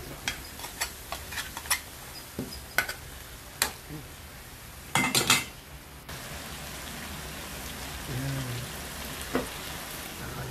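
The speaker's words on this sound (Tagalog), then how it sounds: "Halu-haluin lang natin yan." A wooden or metal spoon stirring pork kaldereta in a cooking pot, heard as scattered, fairly quiet clicks and knocks against the pot over a soft simmering hiss.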